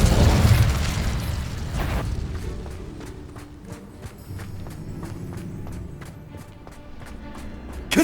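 Incendio fire spell in Hogwarts Legacy erupts in a loud fiery burst, then subsides into quieter crackling and a run of rapid, evenly spaced clicks or footfalls, ending with another sudden hit.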